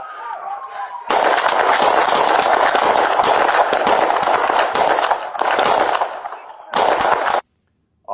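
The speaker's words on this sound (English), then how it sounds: "several officers discharged their service weapons at the subject" Police officers discharge service weapons at an armed man inside a police station, a loud rapid volley of gunshots rattling on for several seconds with a brief pause, then ending abruptly in silence.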